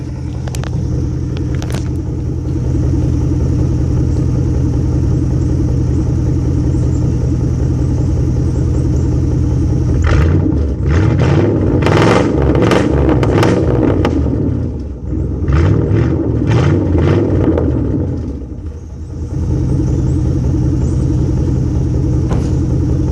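Straight-piped Cadillac Escalade V8 idling with a loud, steady low rumble, then revved in several sharp bursts before settling back to a deep idle; close and with no voices.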